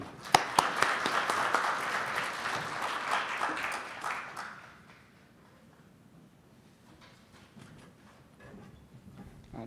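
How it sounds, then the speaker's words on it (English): Audience applause at a conference session on affiliate programs, a moderate round of clapping that fades out after about five seconds into near silence with a few faint claps. "Let's give a nice round of applause for Geno."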